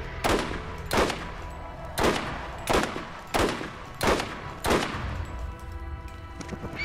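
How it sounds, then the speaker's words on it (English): Grenades and gunfire hit Skagzilla in the Borderlands shooter. About eight loud blasts land at a fairly steady pace, with a continuous rattle of gunfire between them, and nobody speaks. "Let's kill Skagzilla with full grenades,"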